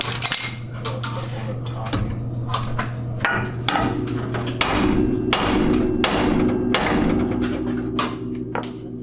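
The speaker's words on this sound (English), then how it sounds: "With this, you smack out with the hammer on both sides." A hammer repeatedly smacking a ball joint on the suspension of a Chevelle being fitted with CTS-V brakes, loud metallic clanks in a quick irregular series, close up in a workshop, with ringing metal between blows.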